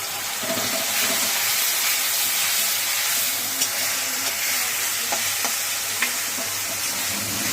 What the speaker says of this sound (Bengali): এবার এটাকে ভালো করে ভাজবে মা